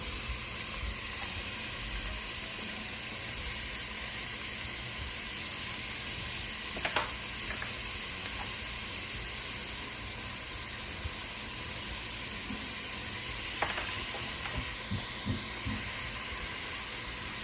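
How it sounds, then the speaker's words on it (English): Onions for a vegan Jamaican dish hit a hot pan and sizzle steadily, a loud, continuous close-up frying hiss with a few faint knocks near the end and no talking. "And then also add the onions in."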